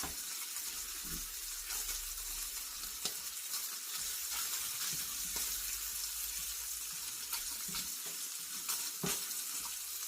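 Chicken pieces brown in a pan for a French cassoulet, giving a steady, fairly quiet sizzle and crackle throughout, with occasional soft clinks and stirring sounds.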